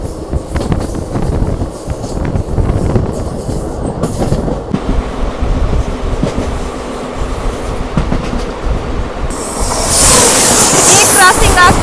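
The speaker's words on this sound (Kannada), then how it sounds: "ಈ ಕ್ರಾಸಿಂಗ್ ಆಗ್ತಾ ಇರೋ ಟ್ರೈನು ಅಜ್ಮೀರ್ ಟು ಮೈಸೂರಿಗೆ ಹೋಗೋ ಮೈಸೂರು ಎಕ್ಸ್ಪ್ರೆಸ್ ನೋಡಿ, 16209" An Ajmer–Mysuru Express (16209) passes at speed during a crossing, and its rumble and clattering wheels run steadily throughout. Near the end a loud, high-pitched rush swells up as the carriages rush by close to the listener.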